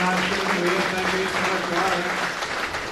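Audience applause at an evening gathering hosted by Wilson's of Rathkenny, a Vauxhall event with racing legends; steady, dense clapping fills the room throughout, with a tonal hum and faint voices beneath.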